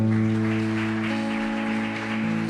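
Congregation applauding in a church service, a steady wash of clapping layered over sustained organ or keyboard chords that continue throughout.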